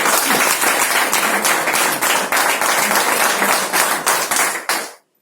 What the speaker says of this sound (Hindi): रवि सर के लिए तालियां बजाओ।